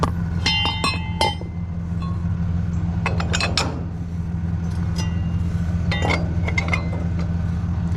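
A padlock on an enclosed trailer being handled and snapped shut, several sharp metallic clicks and clinks in short clusters over a low steady background hum.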